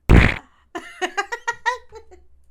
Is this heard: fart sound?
yes